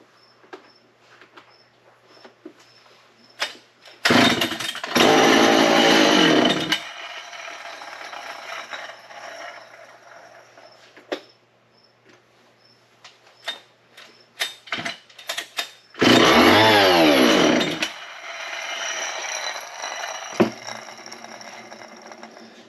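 An old yellow chainsaw engine firing on choke gives two loud bursts, each a few seconds long, the second sweeping in pitch as it revs, with quieter mechanical clicks and handling noise between them.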